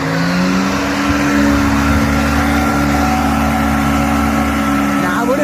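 A Nissan Patrol G60 engine revs hard and steadily in second gear on an off-road track in the Victoria High Country, a loud continuous drone lasting the whole stretch with voices talking over it.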